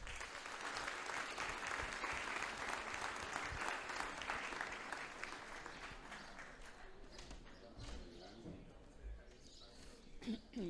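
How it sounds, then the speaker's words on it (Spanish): Crowd applause at a talk fills the first half loudly, then thins and fades into softer scattered claps and a voice beginning to speak. "Un aplauso, por favor"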